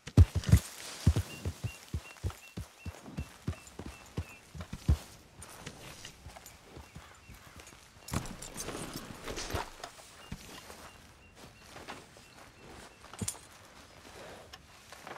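Horse hooves clip-clop at a steady walk in Red Dead Redemption 2, a rapid run of distinct close hoofbeats at first that turns quieter and more scattered, with faint ambient background.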